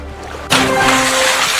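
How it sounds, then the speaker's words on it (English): A small fish splashing in water in Real VR Fishing, a sudden wet burst that starts abruptly and continues as a close, steady sloshing spray. "The little splashes it makes."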